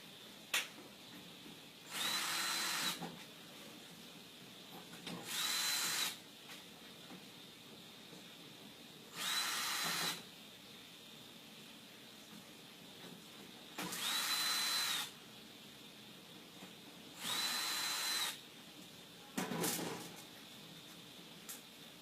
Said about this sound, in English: you just remove these screws here that hold the control board down